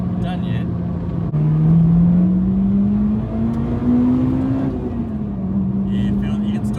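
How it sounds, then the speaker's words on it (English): A Honda Integra DC5 Type R engine revs high and steady, its pitch climbing through the middle before easing back, loud and close from inside the car with occasional voices over it. "I think this is the highest revving car I've done yet"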